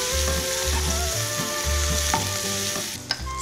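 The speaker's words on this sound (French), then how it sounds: "Et on laisse le tout cuire tout en remuant." Tomato sauce spiced with curry, cayenne pepper and salt sizzles steadily in a frying pan while being stirred, a dense close frying hiss with low rhythmic scraping strokes and a brief clatter near the end.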